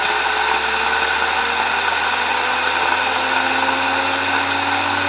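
A 3D printed Tesla turbine spins at about 6,000 RPM, giving a loud, steady airy whine with a rising tonal hum, continuous and close with no talk.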